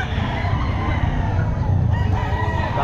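A White Kelso rooster crowing at a busy pet market, a loud drawn-out crow close by over a dense clamour of other fowl and crowd noise.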